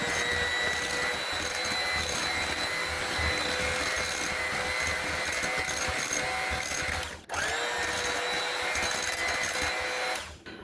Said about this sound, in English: we're going to give that a quick stir with the hand mixer